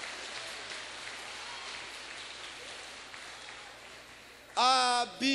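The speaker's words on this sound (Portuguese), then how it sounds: "Pode aplaudir Jesus," Church congregation applauding, a soft, steady wash of clapping that rises and holds, then a voice breaks in at the end.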